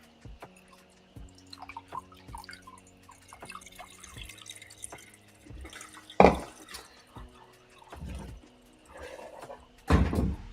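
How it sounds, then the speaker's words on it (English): Water is poured over a coffee filter as a series of drips and short trickles with a few louder splashes, set against a faint background hum. "gotta wet the filter. Get the filter ready, get that cardboard taste out."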